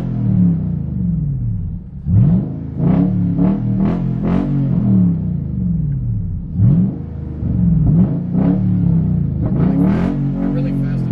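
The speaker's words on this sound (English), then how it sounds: "I'm going to try and rev it, and I'm going to try and get it to pop like that." A Nissan Titan pickup fitted with a new exhaust revs in repeated short, quick blips, each one rising and falling over a steady idle rumble, about a dozen bursts in all, loud and close.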